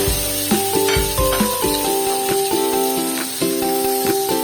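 Onion, garlic and tomato sautéing in a pan for black beans with fish, giving a loud continuous sizzle broken by repeated stirring scrapes and clinks close by, with no talk.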